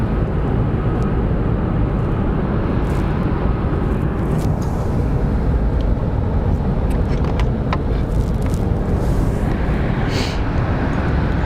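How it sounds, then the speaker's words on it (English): A five-year-old Boeing 787 Dreamliner of American Airlines at Phoenix Sky Harbor International Airport, with a steady loud broadband jet roar that fills the whole stretch without letting up. "American Airlines 675 is a 5-year-old Boeing 787 Dreamliner that is coming here."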